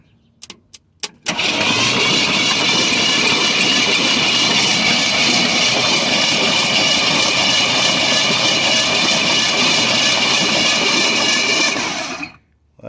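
A 1973 Ford F-250 engine, sitting for 18 years, cranked by the starter after a few short clicks, a loud steady whirring drone that runs about eleven seconds without firing, then stops.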